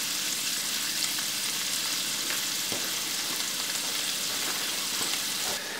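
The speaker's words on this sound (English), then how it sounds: "the Ray is seasoned, the grease is popping, it's ready to go on the frying pan" Seasoned stingray sizzles in a skillet of hot butter and oil, a steady, dense crackle of frying grease with small pops running continuously up close, no voices.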